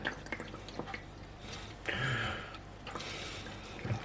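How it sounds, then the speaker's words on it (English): Bread pudding mixture pressed and squeezed through a sieve into a measuring jug, giving wet squelches and drips with a few louder pushes, close and fairly quiet. "we just press this down and squeeze out all the mixture from here"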